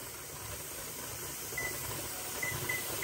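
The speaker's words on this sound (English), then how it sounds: "Can you see that steady stream of steam?" Steam vents in a steady, faint hiss from a pressure canner processing bacon, a continuous airy rush with a low background rumble and no voices.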